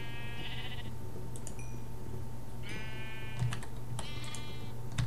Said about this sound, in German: da sind noch ein paar mini blaue und rote Schafe draus worden